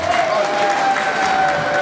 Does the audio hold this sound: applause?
yes